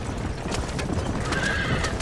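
Horses gallop and neigh in the western video game Red Dead Redemption, with steady clip-clop hoofbeats under a loud whinny that rises midway through the short burst.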